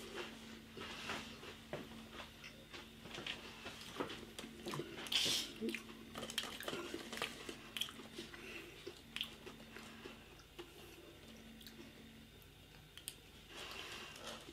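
Pringles Sizzl'n crisps being crunched close to the mic, a steady run of small crisp snaps and clicks over about fifteen seconds, fairly quiet with a brief louder crunch midway.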